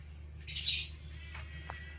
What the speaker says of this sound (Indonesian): kita dari suaranya itu udah ketahuan bahwasanya murai batu ini pejantan